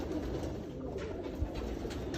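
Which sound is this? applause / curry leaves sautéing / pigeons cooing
pigeons cooing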